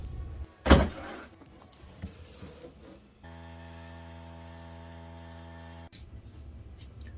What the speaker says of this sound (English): next we're going to take some of this yellow and we're going to spray it on there